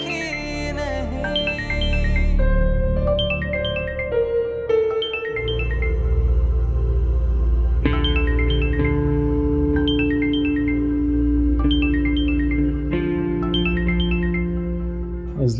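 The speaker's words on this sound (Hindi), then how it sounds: "फोन क्यों नहीं उठा रहा है?" A mobile phone in a Pakistani TV drama plays a melodic ringtone again and again with no answer, its repeating bright tune sounding loud and near over a low sustained musical backing.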